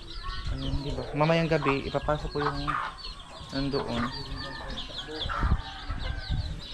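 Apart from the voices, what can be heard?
ducks wanting to get into their pen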